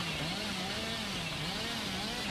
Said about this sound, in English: Blend it with a nice chainsaw.